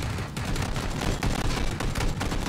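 Gunfire in the video game PUBG, dense overlapping shots and bursts that fill the clip with steady loud noise and no clear gaps.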